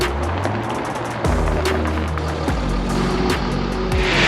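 A stock Jaguar XF-S twin turbo diesel rolls onto a dyno with a low engine rumble close by, and a few sharp thuds mark it crossing onto the rollers.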